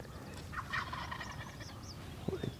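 Wild turkeys gobbling at dawn on opening morning of turkey season in New York, several rolling gobbles at middle distance over faint birdsong and a quiet outdoor backdrop.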